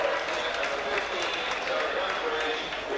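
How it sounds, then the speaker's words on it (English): A rugby league stadium crowd in the main stand applauds steadily and warmly as a substituted player leaves the field, a continuous wash of clapping and cheering under a commentator's voice. "Les Boyd leaves the field to a tremendous round of applause."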